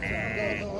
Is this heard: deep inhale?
no